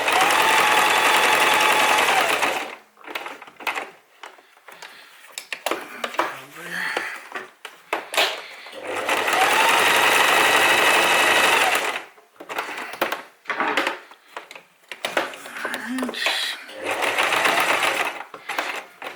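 A sewing machine stitches a wool Loden cover in several loud bursts of fast motor whirring, separated by quiet gaps filled with handling noises and brief talk.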